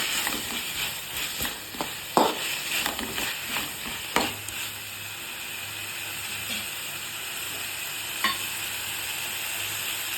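Poha mixed with turmeric in a pan on a medium flame, with soft scraping stirs and light sizzling over a steady hiss, a few louder knocks of the spoon against the pan.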